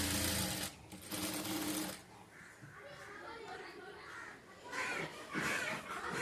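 Sewing machine stitching a blouse lining, in two loud runs at the start and near the end with a quieter stretch between, over faint background noise.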